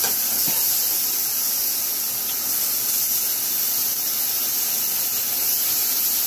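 Food sizzles in a hot pan, cooking for a minute per side, giving a loud continuous broadband hiss that holds steady throughout with no talk over it.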